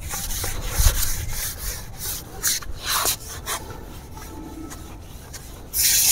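Scrubbing tiles with Pidilite Roff tile cleaner gives steady rasping, rubbing strokes, close and fairly loud, with short louder bursts as the brush or pad pushes across the surface.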